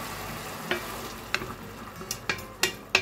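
Ham sizzles in a frying pan as wine goes in, a steady low hiss broken by a few sharp crackles and stirring clicks, close up and with no talking.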